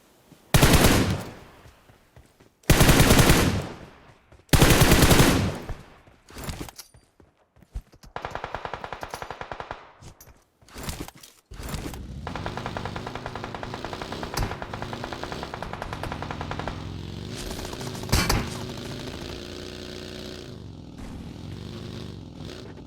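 Gunfire from a PUBG Mobile match: several loud separate bursts early on, then a long stretch of steady rapid automatic fire with engine-like rumble underneath, no one speaking.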